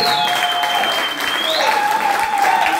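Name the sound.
church congregation cheering and applauding loudly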